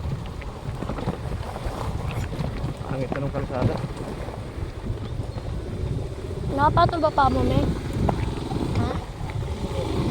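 A small boat's motor drones at sea, under wind buffeting and splashing, with people chatting throughout and a brief higher whine near the middle.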